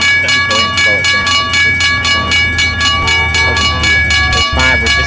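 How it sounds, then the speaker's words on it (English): A train rolls past a level crossing in the Trainz railway simulator, with a loud steady rumble and regular rhythmic clacking throughout, while the crossing bell rings steadily and a voice speaks over it. "I'm just waiting for the train. It's going by right now."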